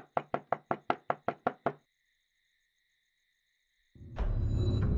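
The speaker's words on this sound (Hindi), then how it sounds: "अरे दरवाजा खोलिए." Nine sharp knocks on a door in a quick, steady rhythm, loud and close, followed by near silence and then a burst of louder ambient noise near the end.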